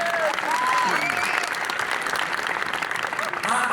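An audience at a company anniversary event and product launch claps steadily and loudly for several seconds, a dense continuous applause without breaks.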